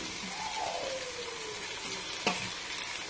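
Curry leaves fry in hot oil for a Tamil fish curry, giving a steady, fairly soft sizzle with a faint crackle and one brief sharp tick near the end.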